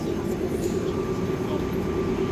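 The Atlanta airport plane train rolls out of the station, a steady low rumble with a thin whine running under it for a couple of seconds.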